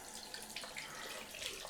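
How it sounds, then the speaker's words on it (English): Cold water runs from a bathroom tap during a wet shave, a faint, steady splashing hiss into the sink with small bursts as the flow is disturbed. "But first I've got to get some cold water on, I think."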